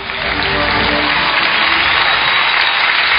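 Loud, sustained applause from a Kazakh comedy show audience swells quickly and holds at full strength, a thick wall of close clapping with a faint crowd murmur beneath.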